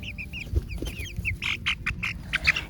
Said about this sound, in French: il y a les petits poussins